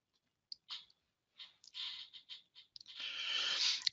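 Computer mouse clicking while navigating software, a scattered run of short sharp clicks with gaps, ending in a denser stretch of rapid clicking and rustle, all quiet and close.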